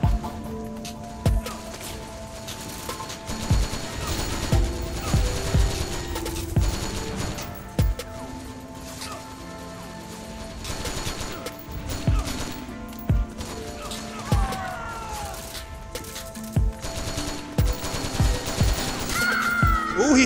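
Gunfire fills a multiplayer shooter video game, with rapid, sharp shots in irregular volleys and bursts over a busy background.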